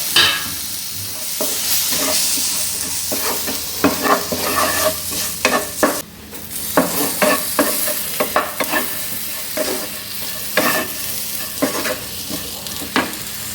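Spice powders stirred and fried in oil for tomato sambar, a loud close sizzle with repeated scraping stir strokes throughout.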